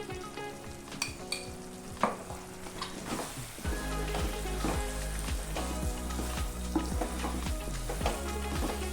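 Coconut barfi mixture made with milk and milk powder cooks in a pan with ghee, bubbling and sputtering in a soft popping sizzle that thickens and grows steadier partway through, with occasional stirring scrapes.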